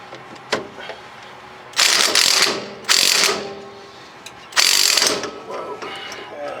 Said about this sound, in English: Now, I think I can do this with my impact